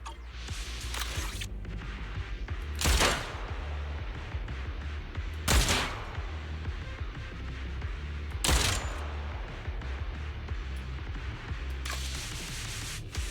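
Sniper shots in Zenless Zone Zero fired at high-pressure ether storage tanks, four loud single cracks spaced a few seconds apart over a steady low game ambience.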